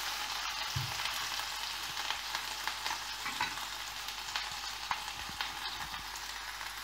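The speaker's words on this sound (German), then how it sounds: "Ihr seht, der Zucker karamellisiert hier schon ganz leicht." Mirin and sugar sizzle and caramelize in a pan, a quiet steady crackling hiss broken by a few faint clicks of stirring.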